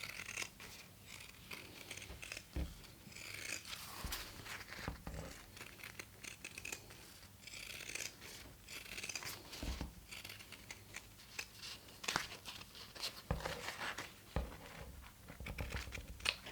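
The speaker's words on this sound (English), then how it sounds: "grab your pinking shears and then trim the seam allowance by half" Repeated crisp snipping and crunching of pinking shears trimming a fabric seam allowance, close and quiet, in an irregular rhythm.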